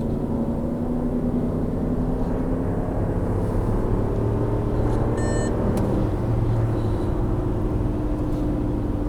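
A HEMI-powered car launches down a drag strip with its tires spinning; a loud, steady engine roar and rumble runs close and unbroken throughout.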